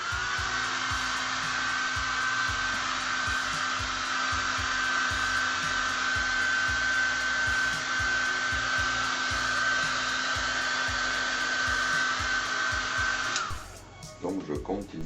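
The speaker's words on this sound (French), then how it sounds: "pour accélérer le séchage, le bon vieux sèche-cheveux." A hair dryer blows steadily to dry airbrush paint, a loud continuous whirring hum with a constant whine that cuts off near the end, with light clicks and handling noises underneath.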